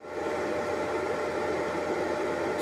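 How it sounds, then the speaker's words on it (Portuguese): An inverter arc welder set to 140 amps burns a 7018 electrode, giving a steady, close, rushing crackle that holds unbroken for a couple of seconds with no voices. "Soldando aí, galera."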